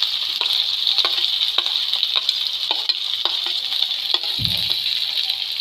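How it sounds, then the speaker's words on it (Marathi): Garlic, green chilli and onion stir-frying in a pan for an okra-seed vegetable dish, a loud continuous sizzle close up with regular light scraping strokes of a spatula throughout. "आपण हे परतवून घेऊया दोन मिनिट"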